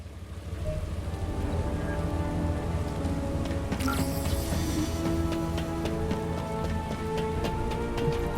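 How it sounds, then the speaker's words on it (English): Steady rain pours down in the free-to-play MMO shooter The First Descendant, a dense, continuous hiss with occasional drips and tonal game music underneath, running alone without talk. "this rain feels a lot like tears"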